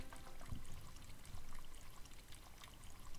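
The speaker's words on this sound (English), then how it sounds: "Water sprays from the shower head." Quiet, steady hiss of water spraying from a shower head and pattering in a horror video game, faint and continuous with no voices.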